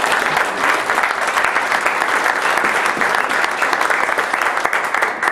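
An audience claps steadily for the speaker Marty at a 1 Million Cups Wichita pitch event, a dense, even roar of many hands lasting throughout without a break.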